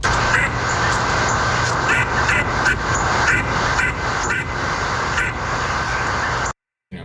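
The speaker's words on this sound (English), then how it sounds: "Your regular duck sounds." Duck quacking, unprocessed, a rapid series of loud close quacks repeating in uneven bursts over a steady noisy background, cutting briefly to silence near the end.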